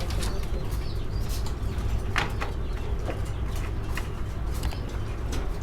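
A breeding pair of Indian Lotan pigeons with a chick coos and shuffles inside a cage at a fancy pigeon farm. Soft repeated cooing and wing movement sit over a constant loud hum from the surroundings.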